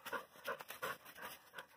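Dog panting hard after running sprints fetching, quick rhythmic breaths close to the microphone, about five or six heavy pants, with no talking.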